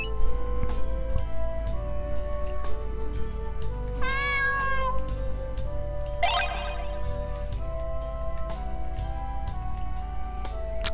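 Two cartoonish cat meows from the Greyfox video game rise clearly over looping game music with a steady beat and bright chiming notes.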